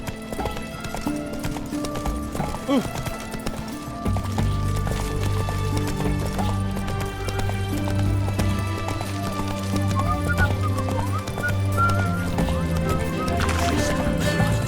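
Roach, the horse in The Witcher 3, gallops in a steady, rhythmic clip-clop of hooves that continues throughout, with a background musical score and some talking layered over it.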